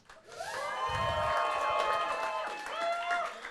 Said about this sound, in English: Give yourselves a massive, massive cheer